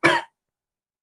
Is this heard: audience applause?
no